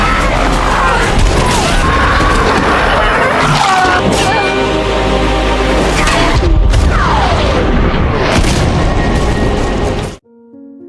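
Nuclear bomb blast in a zombie film, a loud sustained booming roar with crashing debris layered in soundtrack, rumbling for about ten seconds before cutting abruptly to silence.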